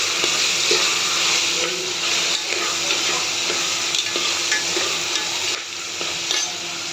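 Soaked chickpeas sauté in hot oil, giving a steady, close sizzle with stirring scrapes and clinks across the clip; no one speaks.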